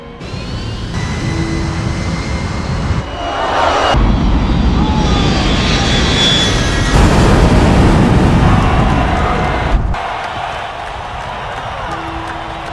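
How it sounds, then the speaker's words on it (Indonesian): A low-flying airplane roars overhead above a stadium crowd, a loud sustained engine drone that swells in the middle and eases off, with crowd noise mixed in. "tiba-tiba sebuah pesawat terbang rendah tepat di atas stadion"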